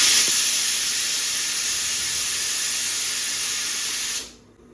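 A steam iron pressing clothes gives off a steady loud hiss of steam that runs evenly for about four seconds, then cuts off and fades to near silence.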